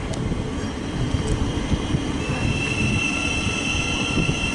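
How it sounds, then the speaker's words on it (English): A five-car East Midlands Meridian on the Midland Main Line runs through St Albans City station towards Nottingham. It rumbles steadily and loudly at close range, with a high wheel squeal and a whining tone rising later in the pass. "Also passing, we have an East Midlands train service to Nottingham from London St Pancras."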